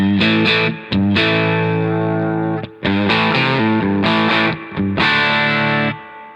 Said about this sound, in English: here's the gain right at noon, and this is a, you know, Strat style guitar